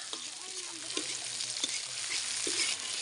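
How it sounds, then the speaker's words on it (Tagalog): Tomato and garlic sautéing in a pan, a bright steady sizzle close up with a few light stirring knocks. "Gisa na lang sa kamatis."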